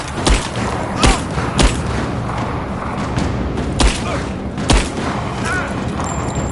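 Gunfire and explosions in a video game: a steady rattle of shots broken by several heavy booms and thuds at irregular intervals, with shouted game voice lines mixed in.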